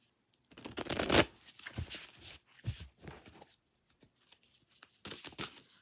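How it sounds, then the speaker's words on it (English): A fairly new, crisp deck of tarot cards is shuffled up close, giving several quick riffling bursts and soft slaps with short pauses between, fairly quiet and without talk. "I gotta get better at shuffling this specific deck because the cards are still fairly new, so they got that crisp shuffle to them"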